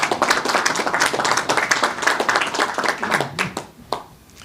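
Scattered applause from a small audience at a city hall press update, crisp hand claps that thin out toward the end, leaving a few isolated claps.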